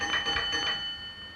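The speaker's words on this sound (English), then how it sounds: "signalman communicates with the boxes on either side of his own by means of telegraph instruments and bells" Railway signal box telegraph bell used by a signalman to send beat codes to neighbouring boxes, heard as three quick ringing strikes in steady rhythm, fairly close and clear, then a fading ring.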